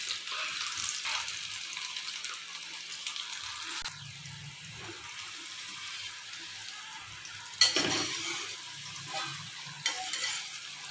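White chana frying in oil over a medium flame, a steady soft hiss of bubbling oil with occasional stirring scrapes and clinks, fairly quiet and continuous without talking.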